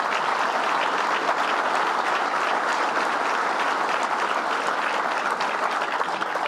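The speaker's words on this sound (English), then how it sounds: "Stand up and let us give you a round of applause." Applause from a luncheon audience fills the room, a dense, steady clapping from many hands that holds at an even level from start to finish with no talk over it.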